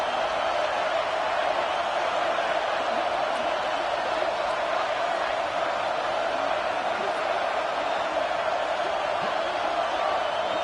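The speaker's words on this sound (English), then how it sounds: "Waning moments, huge 4th down, and this crowd is rising to the occasion." A college football stadium crowd roars steadily on a late 4th down, a dense sustained wall of cheering with no breaks in the noise.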